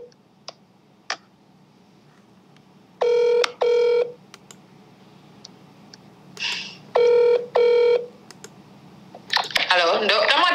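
A telephone sounds two double-burst ring tones, pauses, then rings twice more in the same pattern, with faint clicks between them. Near the end a person starts talking.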